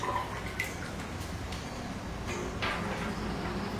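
Water sloshes and drips in a bucket as five clay plant pots are soaked, with quiet splashes and scattered drips close by and no voices.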